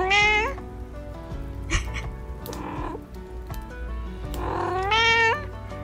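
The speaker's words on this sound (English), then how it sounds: "That's a really nice sound of cat." Cat meows in the Stardew Valley farming game, two clear drawn-out calls at the start and end with a busier stretch of game sounds between them.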